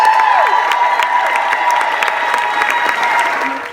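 Audience in a hospital gathering breaks into steady, dense applause with scattered cheers, a continuous crowd clatter that stays loud throughout and eases slightly at the end.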